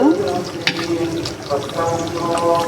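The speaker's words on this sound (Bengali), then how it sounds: "পানি দিয়ে দিব" Water splashes and pours into a pan of frying beef curry, a close, uneven gush with bubbling and a few clinks, while a voice speaks briefly.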